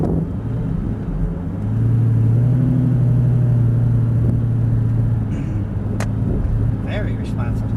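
A Lamborghini pulls away slowly in first gear on an airport track, its low engine rumble rising and steadying close by, with people talking over it.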